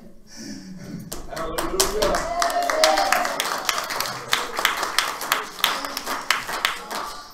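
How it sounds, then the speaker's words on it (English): A church congregation breaks into clapping, starting scattered and building into quick sharp claps that continue steadily, with a voice speaking or calling out at the start. "I heard all them people clapping."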